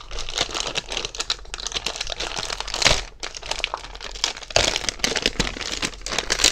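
A delivered package is unwrapped by hand close up, giving dense continuous crinkling and tearing of packaging with sharper rips scattered throughout and no talking.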